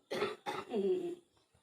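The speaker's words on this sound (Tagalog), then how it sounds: "Simula noon, yung ubo nyo hindi nawawala." A person with a cough lasting about a month gives three quick, hoarse coughs in a row, close and fairly quiet, followed by silence.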